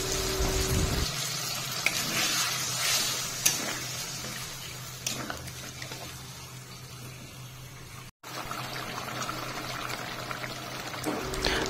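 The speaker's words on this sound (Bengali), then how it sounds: "এবারে ঝোলের জন্য পরিমাণ মতো জল দিয়ে" Water poured into a Bengali fish curry gravy of fried spices and potatoes, a steady close pouring and sizzling wash that holds loud throughout, dipping briefly near the end, with no talking.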